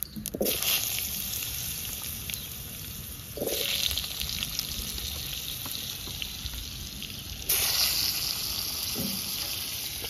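Potatoes and papaya sizzle and fry steadily in leftover fish-frying oil with cumin and bay leaf, a continuous close crackle with a few stirring scrapes and surges in intensity.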